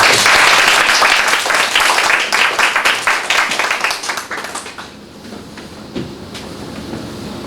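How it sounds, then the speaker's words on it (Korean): Students applauding at a school career-talk lecture. Dense, loud clapping starts at once, then thins into scattered claps and fades out over several seconds. "박수 치고."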